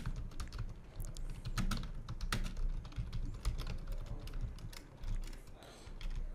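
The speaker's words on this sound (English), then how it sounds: "So let's type something over here." Fingers type on a computer keyboard in close, uneven bursts of clicky keystrokes that pause now and then before resuming, with no voice over them.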